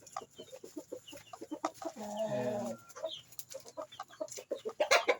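Chickens cluck repeatedly nearby, with a louder burst of squawking partway through and steady clucking continuing around it.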